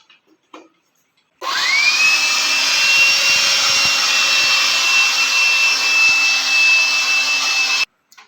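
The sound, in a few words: electric air blower used as vacuum cleaner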